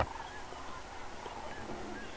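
Faint honking calls of cranes sound in the distance at sunrise over a steady outdoor background hiss, a few calls scattered across the clip.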